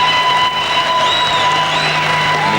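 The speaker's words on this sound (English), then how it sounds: "So now you will hear the build-up and the applause for the man who won the undisputed title, welterweight title." A boxing arena crowd roars and applauds for the undisputed welterweight champion, a loud, steady wash of cheering and clapping with no pauses, heard over a constant tone.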